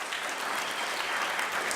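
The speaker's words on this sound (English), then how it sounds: "Please give them a big round of applause." Steady applause from a crowd, dense and continuous clapping filling the whole stretch with no voices standing out.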